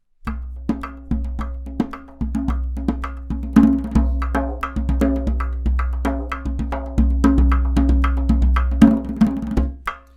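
A clay doholla hand drum played in a fast, busy rhythm, deep booming low strokes mixed with sharp slaps and taps on the skin, loud and continuous for about ten seconds.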